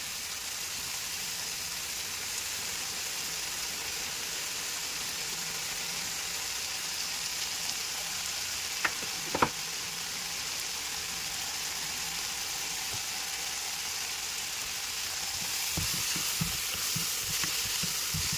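Onion and tomato fry in a pan for a coconut milk chicken curry, giving a steady close hiss of sizzling throughout, with a couple of sharp utensil taps midway and soft stirring scrapes toward the end.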